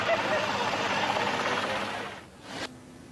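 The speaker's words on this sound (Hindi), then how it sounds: "नेवी का हेलीकॉप्टर फंसे लोगों को एयरलिफ्ट कर रहा है।" A Navy helicopter airlifts stranded people during a flood rescue in Kottayam, Kerala, its engine and rotor making a steady loud roar that fades near the end and then cuts off.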